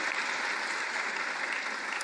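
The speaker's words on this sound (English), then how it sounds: "it's great to give everyone an applause at their opening statements" A mayoral debate audience in Ottawa applauds after the opening statements with a steady, even wash of clapping that lasts the whole moment and has no speech over it.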